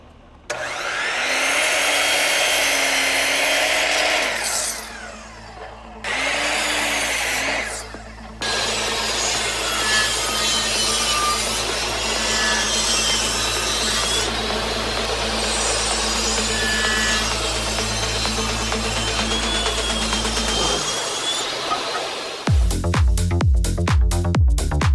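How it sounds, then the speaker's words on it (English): 2x6 pine boards are cut for a face frame in a workshop, a loud steady rasping cut running for most of the stretch after a few short bursts, with a different tool whine at the end and no talk. "I'm gonna go ahead and start cutting out the face frame, and I'm just using 2x6 pine to do this"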